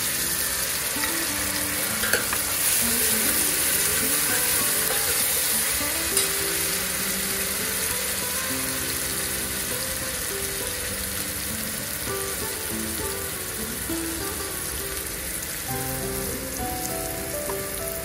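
Ginger garlic paste and cumin sizzle in hot oil in a pan for Nagpuri-style masala rice, a loud, continuous crackling hiss that holds steady for the whole stretch, with no voices over it.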